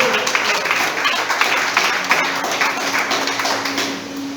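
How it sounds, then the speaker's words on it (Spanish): A church congregation applauds during a Spanish-language service, a steady round of clapping with a low sustained tone beneath it, gradually thinning out toward the end. "Dale un aplauso al Señor."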